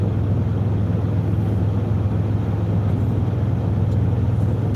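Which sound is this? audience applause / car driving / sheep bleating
car driving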